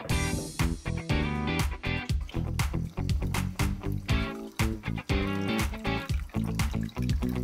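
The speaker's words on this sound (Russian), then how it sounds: "Устанавливаем самый обычный маленький аквариумный фильтр." A small, ordinary aquarium filter runs, with water splashing and trickling in close, busy bursts that keep going throughout.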